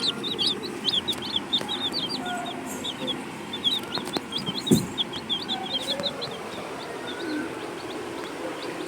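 Baby chicks cheeping in a steady stream of high, rapid peeps close by, with soft background noise and no clear talk.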